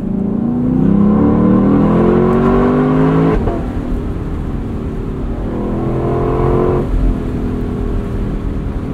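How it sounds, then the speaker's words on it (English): The deep V8 of a 2024 Lexus LC 500 Convertible roars as it accelerates in sport mode, its pitch climbing through the gears with brief drops at each shift, loud and close. "You mostly just want to hear that V8."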